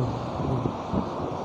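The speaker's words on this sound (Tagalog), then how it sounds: "Lakas ng hangin." Steady, dense rumble of strong wind buffeting close to the microphone, a constant low roar with no voices.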